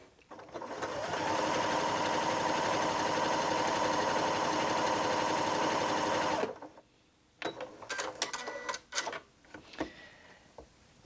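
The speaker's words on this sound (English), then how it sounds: "So I've selected the Serpentine stitch and we'll just go ahead and sew that now." A Janome Memory Craft 6700P sewing machine runs a serpentine stitch in one loud, steady motorized whir lasting several seconds, then stops, followed by a few quiet clicks and handling sounds.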